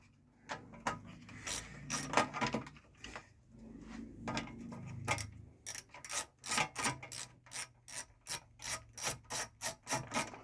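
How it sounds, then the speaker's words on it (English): Close-up ratchet clicks undo the small starter motor cover bolts on a 31ci single cylinder Briggs engine, starting as scattered turns and then settling into a steady, rapid rhythm of sharp clicks. "I'll take this cover off from the starter motor."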